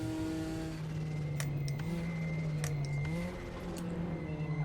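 A 1980s Porsche race car engine in RaceRoom holds a steady drone, with a pitch rise and fall and a few sharp transient clicks. It is moderately loud and continuous with no talk.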